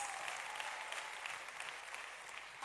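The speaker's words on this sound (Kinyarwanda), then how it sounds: "Reka dukomere Yesu amashyi, arabaruta bose." Church congregation applauding, a steady wash of many hands clapping at moderate level, continuous and fairly distant, with a slight swell at the very end.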